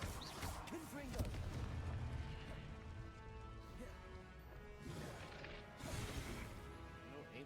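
Blasting impacts from the Confringo spell in a Harry Potter video game, with repeated crashing, explosive bursts rolling over continuous game noise at fairly low level.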